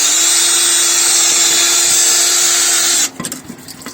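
A power drill whines loudly and steadily near a turbocharger being drained on an ALCO S6 Model 320F locomotive, then cuts off abruptly at about three seconds, leaving faint clattering and ringing.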